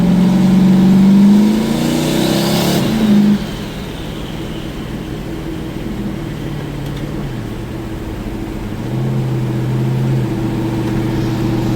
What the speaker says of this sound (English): Cruising into Fairmont. There's some turbo noises.